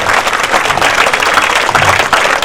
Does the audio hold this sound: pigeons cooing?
no